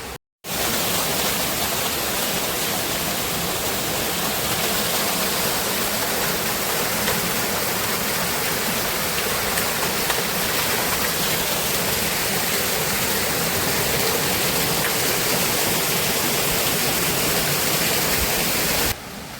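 Solamba Ella waterfall at Dedugala near Bulathkohupitiya pours in a loud, unbroken rushing roar that stays steady from start to finish, with no voices over it.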